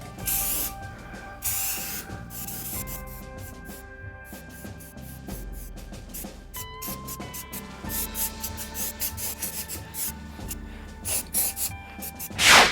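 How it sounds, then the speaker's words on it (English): Short bursts of aerosol gold spray paint hiss repeatedly onto a glove, a series of close, sharp sprays with brief pauses between them and no talking. "I'm gonna have Fatal here spray paint this glove with some gold paint"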